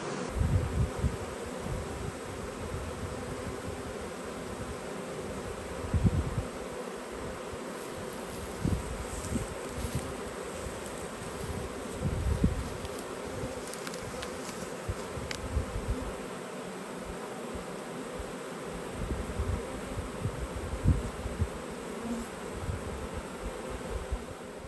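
A swarm of honey bees drones in a continuous, soft buzzing hum, with faint rustling and occasional closer passes of individual bees.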